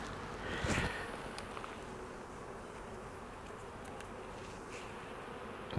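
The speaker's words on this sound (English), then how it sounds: "Let's go ahead and move these bees out the way." Honey bees buzzing around frames of a nuc hive during an inspection, a soft, constant hum of many bees with a few brief louder passes and light handling knocks.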